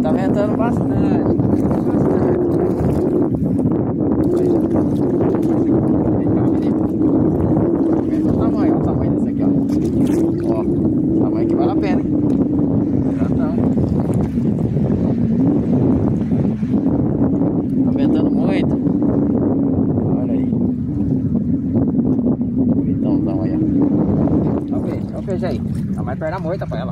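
Strong wind buffets the microphone throughout a fishing trip on the water, a steady roaring rush with boat and water sounds beneath it and people talking over it.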